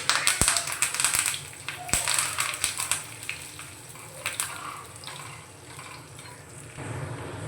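Black mustard seeds and curry leaves fry in hot oil for a tadka, giving a soft sizzle with scattered sharp pops and crackles that ease off and turn quieter toward the end.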